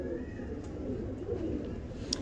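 Pigeons, a female bird among a flock of several hundred, coo softly and steadily close by, with a faint chirp near the end.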